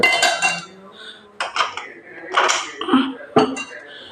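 Rice is stirred into chicken biryani in a metal pot, making close, intermittent clinks and scrapes of a ladle against the pot in short uneven bursts.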